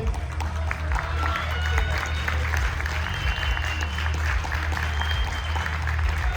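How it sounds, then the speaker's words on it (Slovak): Steady, dense audience applause fills the hall at a bodybuilding competition in Michalovce, continuous and loud over a low rumbling background, with scattered claps standing out throughout. "my im zatleskame"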